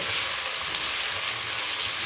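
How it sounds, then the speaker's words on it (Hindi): A steady, dense sizzle of biryani ingredients such as tomato and onion frying in a pot, continuous and close, with a faint spoon stir partway through and no voices. "अब हम इन चीज़ों को अच्छी तरह भून लेंगे।"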